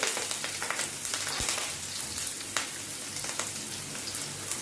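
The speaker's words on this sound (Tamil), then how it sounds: "மிக்ஸ் பண்ணி விடுங்க ஃப்ரை ஆகட்டும்" Shredded cabbage with curry leaves fries in a pan, a dense continuous hiss of sizzling, close and steady throughout, like rain on a surface, with no voices.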